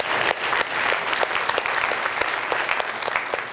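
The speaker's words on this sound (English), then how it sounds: "Can we give them a round of applause for coming to here?" An audience in a large church claps steadily, a dense, even round of applause that stays loud for a few seconds without any voices on top.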